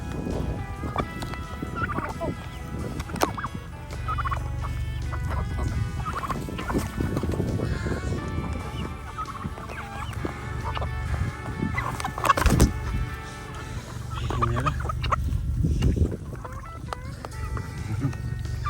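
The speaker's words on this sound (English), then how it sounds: "there's a rooster right there" Roosters and other fowl call around a homestead, repeated gobbling and crowing bursts at varying distances over an active yard, with occasional hoof-like thuds in the background.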